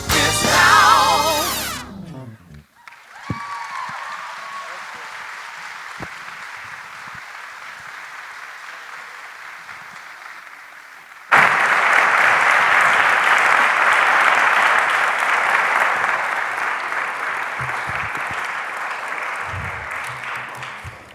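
A convocation audience at an MLK event applauds in a long sustained wave of clapping, which briefly thins and then surges louder again before fading near the end.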